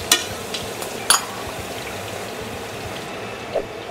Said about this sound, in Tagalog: konting prito lang din sa bell pepper.